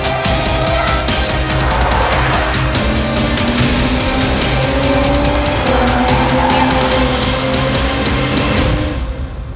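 A BMW M340i drifts sideways on a race track, its tires squealing in long wavering howls over the steady drone of the engine, loud and sustained for several seconds.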